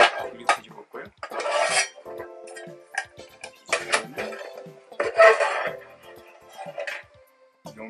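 Metal Trangia mess tins, a compact Small 210 and a roomy Large 209, clatter and knock as they are handled and flipped over, giving a run of close, bright clanks and taps with short pauses between them.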